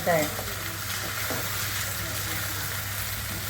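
Mutton sukka frying dry in a pan, a steady close sizzle with faint scraping, a brief louder crackle at the start, then an even hiss throughout.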